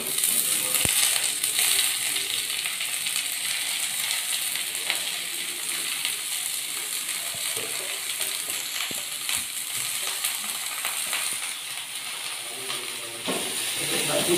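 Saag greens hiss and sizzle steadily in a hot frying pan after browning, a dense continuous frying sound with occasional clinks of stirring throughout.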